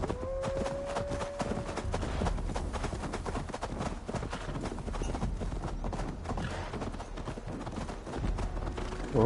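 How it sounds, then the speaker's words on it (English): A horse gallops across snowy ground in the video game Assassin's Creed Valhalla, with continuous rapid clip-clop hoofbeats at a steady pace, moderately loud and close throughout. "My horse could run faster"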